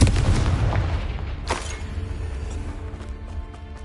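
Confringo fire-blast spell explosions in Hogwarts Legacy, a loud booming impact at the start followed by a second sharp burst and a fading crackling rumble.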